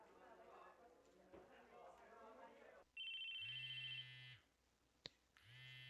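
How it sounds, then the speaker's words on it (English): A mobile phone rings in the visual novel game Chaos;Head Noah, setting off a sustained electronic ringtone burst with a low buzzing vibration beneath it, stopping and starting again after a brief click, following a stretch of talk. "A loud electronic noise echoed through the classroom. I felt a slight vibration near my chest. It was my phone."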